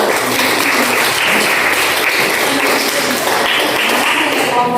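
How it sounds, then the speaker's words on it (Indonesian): A classroom group claps for student groups, a dense, fairly loud burst of applause that holds steady for the whole stretch. "Berikan aplaus untuk kelompok 2 dan 1"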